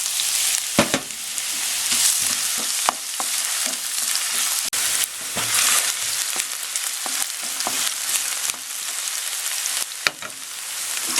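Onion dropped into a pan of browned garlic, sizzling and crackling steadily with frequent sharp pops and stirring scrapes, close and loud with no talking.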